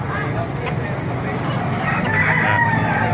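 A white Kelso rooster crows amid busy background noise and murmuring voices at a market in Baliuag, with hens clucking nearby.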